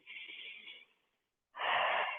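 Two deep, audible breaths during a therapeutic yoga session, a long airy inhale, a brief pause, then a fuller rushing exhale, close and alone.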